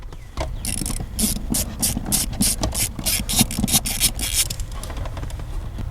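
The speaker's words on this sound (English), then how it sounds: "So we're going to pull that 10mm nut off, and then we can unlatch this carrying case." A 10mm nut is being removed from the GM5 module carrying case of a BMW E46, a rapid run of ratchet clicks in quick bursts, close and fairly loud, with a few short pauses.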